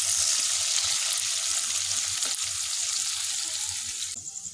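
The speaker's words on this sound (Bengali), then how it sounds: "এবার ওই তেলেতেই পেঁয়াজগুলো ভেজে নিতে হবে।" Sliced onions fry in hot oil for a mutton curry, giving a steady close hiss and sizzle that thins slightly toward the end, with no talk.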